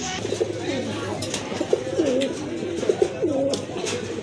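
Pigeons cooing at a busy pigeon market, a rolling throaty coo repeating close by over a murmur of crowd noise and distant voices.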